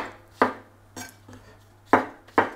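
Mushrooms cut into small wedges with a knife on a board, heard as four or five sharp, close chops spaced irregularly over a quiet background.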